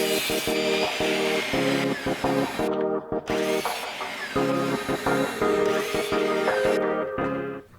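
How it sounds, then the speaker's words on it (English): A chop saw squares the end of a stabilized knife handle blank, giving a steady, loud whining cut with a repeating pulse throughout, briefly dropping off a couple of times before ending. "the next step is to square one end over at the chop saw"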